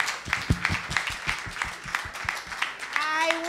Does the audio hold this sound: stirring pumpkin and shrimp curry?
no